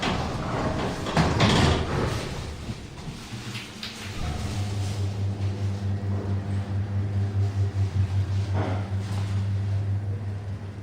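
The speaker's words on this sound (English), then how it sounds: "Doors closing." Shopping-centre lift doors slide shut with a loud mechanical rumble and clunk, followed by a steady low hum as the lift starts moving.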